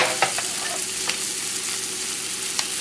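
A fluke fillet sautés in a pan as cream sole is prepared, giving a continuous close sizzle with a few soft clicks of stirring and no voices.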